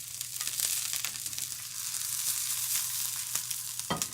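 Chopped wild ramps fry in a pan with a steady, moderately loud sizzle and crackle, plus a small utensil knock near the end, and nobody speaks.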